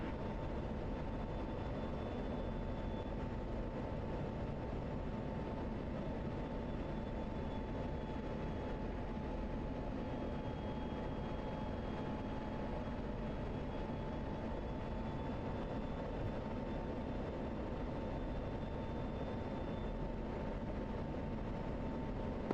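An aircraft climbs to a steady level in a flight simulator game, its engine a constant, even drone with a faint steady whine and no voices.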